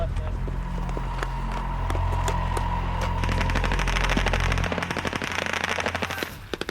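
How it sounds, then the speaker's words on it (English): Machine gun fire during a British Army night training attack that opens with flares: rapid, continuous bursts of automatic shots, loud and sustained, over a heavy low rumble that drops away near the end. "The attack began with flares and machine gun fire once we'd crept as close as we could in the pitch dark"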